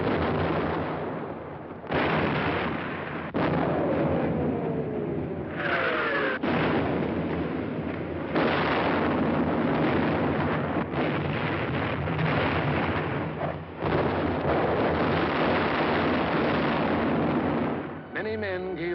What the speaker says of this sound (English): Artillery were deadly accurate by reason of excellent enemy observation from Mount Lunga